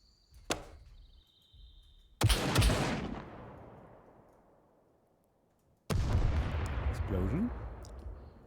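Explosions in the video game SCUM: a sharp blast at two seconds rolls off into a long fading rumble, then a second loud blast near six seconds, with a small earlier crack and thud before them.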